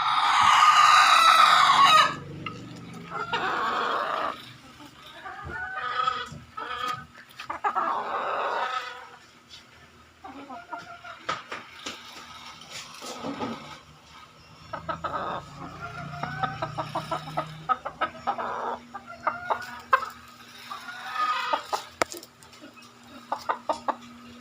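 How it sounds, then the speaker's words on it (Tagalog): A chicken crows loudly at the start, then steady clucking and scattered fowl calls continue nearby, with a faint hum and occasional rustling. "Yan po siya, kagandang manok."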